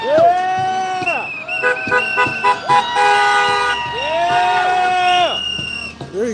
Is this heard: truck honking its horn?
yes